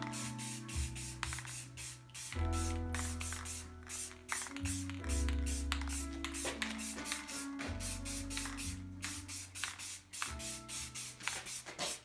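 An aerosol spray can hisses in repeated bursts, laying a second light coat of paint on a part from a 1981 Honda XL125S motorcycle, loud and close, each burst separated by brief pauses.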